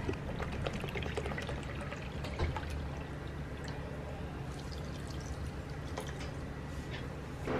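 One cup of water being poured into a pot for tanghulu sugar syrup, a steady, continuous trickle and splash at close range, fairly quiet, with no talking over it.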